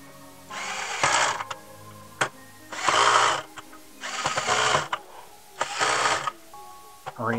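Screws are driven into a Game Boy Player adapter on a Nintendo GameCube, coming as four separate bursts of whirring, ratcheting tool noise with small clicks between them, close and fairly loud.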